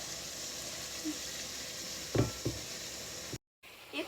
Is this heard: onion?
yes